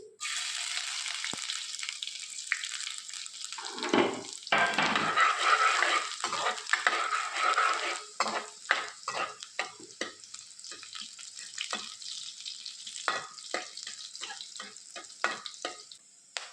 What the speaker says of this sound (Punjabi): ਇੱਕ ਚਮਚ ਪਾ ਦਾਂਗੇ ਸਾਬਤ ਜੀਰਾ ਹੁਣ ਪਾ ਦਾਂਗੇ ਆਪਾਂ ਲਸਣ ਤੇ ਅਦਰਕ